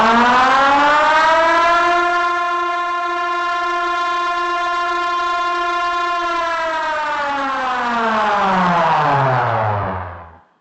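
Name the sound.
dam-break warning siren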